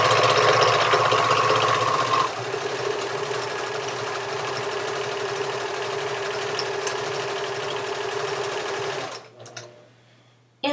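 A sewing machine stitches a fabric collage, pins still in the cloth: a loud, steady, close mechanical whirr that runs unbroken for about nine seconds, then stops abruptly.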